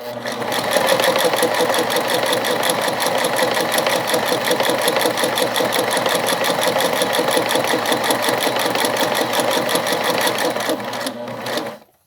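A sewing machine stitches a fabric double pencil case, a fast steady mechanical chatter running without a break for about eleven seconds, then stopping abruptly; loud and close, with no talking.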